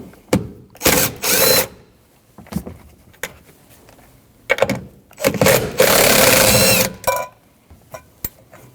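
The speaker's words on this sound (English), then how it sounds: "Now remove those 3 nuts." A ratchet loosens the 12mm rear strut nuts on a 2003-2008 Subaru Forester, working close up in several quick bursts of clicking separated by short pauses.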